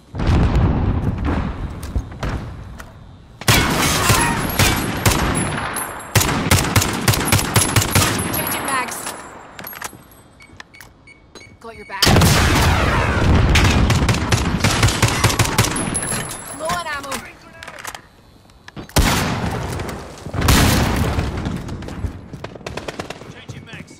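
Heavy gunfire and grenade blasts from Call of Duty: Modern Warfare, loud and close, with sustained automatic bursts and booming impacts separated by short lulls across the whole stretch.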